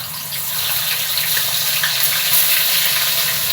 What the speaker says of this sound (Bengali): এই তেলের মধ্যেই দিয়ে দেবো পনিরগুলো।